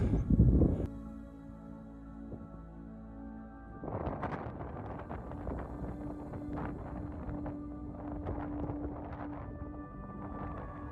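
Wind gusts over an exposed moorland hilltop near the Devil's Beeftub on the Annandale Way, a broad steady rush with buffeting that swells from about four seconds onward, loud and close to the microphone, with no voices.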